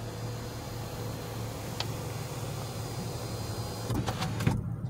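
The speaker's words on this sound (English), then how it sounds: "And you got the panoramic sunroof." The panoramic sunroof of a Nissan Rogue motors open inside the parked car, a steady electric whir under cabin noise that ends with a few clunks as it stops.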